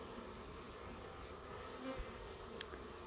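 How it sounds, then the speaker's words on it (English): Bees buzzing around a hive outdoors, a soft steady drone of many insects at a low level, with a brief closer fly-by near the end. "Sitting outside, enjoying the bees, looking how they come home with the pollen."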